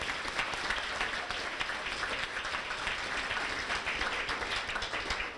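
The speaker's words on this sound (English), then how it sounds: "Please give them a round of applause." An audience at a high school fall sports banquet and awards ceremony applauds: dense, steady clapping from many hands that holds even and full for several seconds without voices over it.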